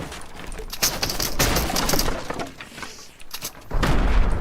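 Grenade explosions and gunfire in a Fortnite match, loud rapid bursts of shots and booming thuds in quick irregular succession, with a deep heavy blast near the end.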